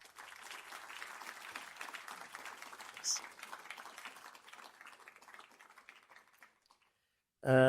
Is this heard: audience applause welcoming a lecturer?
yes